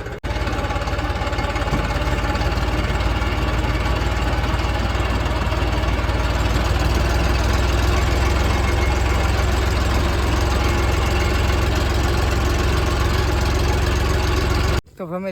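An Eicher tractor engine runs continuously on a rough road, a loud, close, steady chugging drone that holds for the full length before cutting off abruptly at the end.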